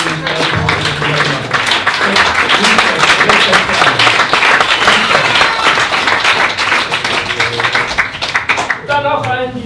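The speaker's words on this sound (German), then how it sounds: "das ist für euch alle nochmal ein Applaus für die Veranstalterinnen und Veranstalter" An audience claps for the organisers at a climate-action community event in the Oberland region of Germany. The clapping is dense, loud and continuous for most of the stretch, and a voice starts talking just as it ends.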